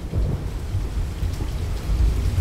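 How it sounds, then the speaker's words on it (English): Heavy rain lashing down in a storm in a warm sector ahead of a cold front, with low rumbling thunder rolling continuously beneath the steady downpour. "The rain has been lashing down for the last 30 minutes. We've had thunder and lightning"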